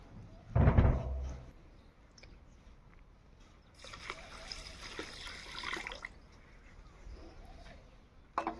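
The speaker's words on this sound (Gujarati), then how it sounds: "બે કળશા જેવું લીટર જેવું પાણી નાખ્યું." About a litre of water poured into a pan of sugar to make syrup for adadiya pak, a splashing, hissy pour lasting a couple of seconds after an earlier thud, quiet overall.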